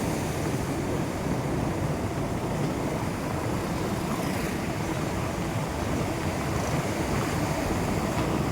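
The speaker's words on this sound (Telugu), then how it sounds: "ఉప్పాడ బీచ్." Surf rolling in at Uppada beach at sunrise, a steady broadband wash of waves that stays loud and continuous, with wind buffeting the microphone throughout and no voices.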